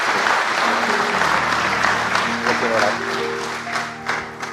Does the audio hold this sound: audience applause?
yes